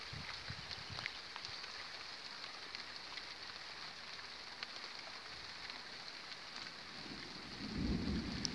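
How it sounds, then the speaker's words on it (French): Steady rain pours during a moderate electrical thunderstorm in Pernois, France, in July 2017; a deep roll of thunder swells near the end over the constant patter. "Oula, ça tonne bien là."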